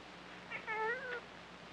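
A cat gives a single short meow, clear and moderately close, rising then falling, with nothing else around it but a faint steady background hum.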